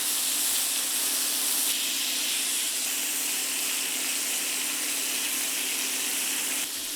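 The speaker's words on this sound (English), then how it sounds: "Sear the sides as well" NY strip steak searing on its sides in a hot oiled pan, a loud, dense, unbroken hiss of sizzling fat held close for the whole stretch, with no talk over it.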